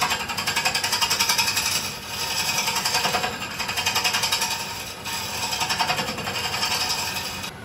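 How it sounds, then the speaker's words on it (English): A wood-turning gouge pushes into a spinning bowl blank on a lathe to open a starting hole for hollowing, giving a steady rapid chattering scrape in several sustained bursts with brief pauses, close and fairly loud with no speech. "I'm basically just going to be pushing in to create a hole so then I can start"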